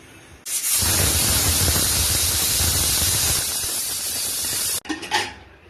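A pressure cooker cooking bottle gourd with prawns lets out one loud, continuous hissing whistle of steam that runs for about four seconds and then cuts off abruptly, followed by a few brief sputters.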